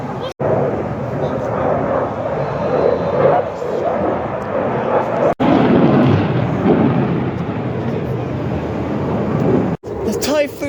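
Eurofighter Typhoon jet flying at an airshow in England, a loud, steady, rumbling roar that fills nearly the whole stretch, broken only by a couple of brief cuts.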